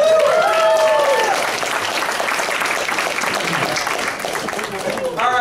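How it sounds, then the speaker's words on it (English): Audience applause at a charity improv comedy show, a loud, steady wash of clapping with voices over it at the start and again near the end. "Give a round of applause"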